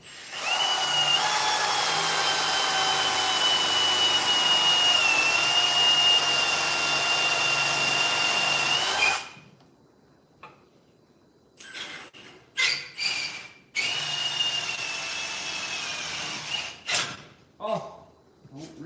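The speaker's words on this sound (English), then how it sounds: "we're gonna drill a hole through here" A power drill whines steadily at high speed while boring a hole through flooring for in-floor heating, then stops and restarts in several short bursts before running continuously again.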